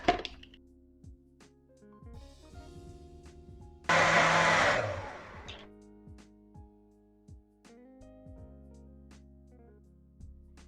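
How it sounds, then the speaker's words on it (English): A kitchen blender whirs for about a second on a batch of onions and peppers, a short loud burst that stops abruptly, surrounded by quieter knocks and handling sounds. "Then we are going to blend this."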